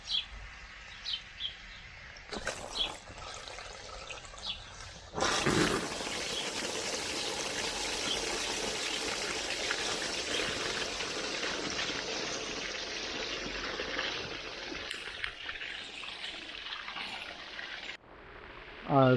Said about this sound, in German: Also Wasser läuft